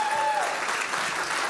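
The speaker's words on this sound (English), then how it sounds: "Massive round of applause for Kimberly Isherwood" An audience at a child protection conference in Wales claps for a speaker being introduced, a dense, steady burst of applause filling the room, with a brief tonal whistle at the start.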